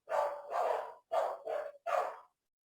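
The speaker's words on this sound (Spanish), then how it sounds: "Están escuchando unos perros" Street dogs barking outdoors in a run of five loud, close barks, paired in quick pairs with short gaps, with no other sound around them.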